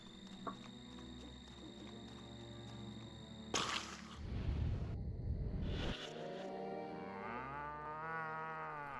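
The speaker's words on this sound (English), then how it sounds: "Zombie cows." Zombie cows moo in the video game Destroy All Humans, a drawn-out bovine call amid game music and sound effects, with a loud burst in the middle.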